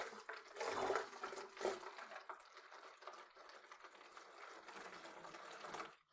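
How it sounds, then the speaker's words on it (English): Tap water is poured into an old plastic Pepsi bottle, a gurgling, splashing pour that swells near the start and runs on unevenly, close and fairly quiet, with no talk. "I'm going to take my water just filled up from the tap, and I'm going to dump it in here"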